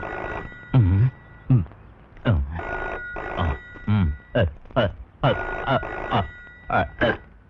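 An old-style telephone bell rings in repeated short bursts with brief pauses between them, loud and close, with no other sound around it.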